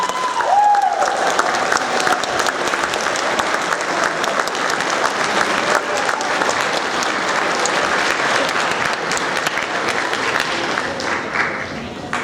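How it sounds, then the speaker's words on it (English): A school audience applauds 8th grade award winners with steady, loud, dense clapping that carries on evenly for about twelve seconds and tapers slightly at the end. "Let's give them a big round of applause."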